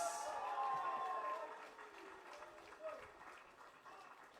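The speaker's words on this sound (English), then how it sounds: "I want to hear the roaring round of applause." Applause from an audience gathered for the commissioning of a practical instruction centre, a broad wash of clapping that swells early and then thins to a lighter patter, with a voice briefly audible over it.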